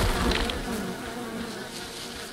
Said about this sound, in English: Sure, bees, and I can't see anything.